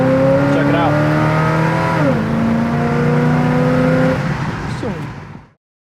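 1971 Chevy Camaro RS V8 roaring loud and close as it drives fast, with the pitch climbing through gears, dropping at shifts around two and four seconds, then cutting off abruptly to silence.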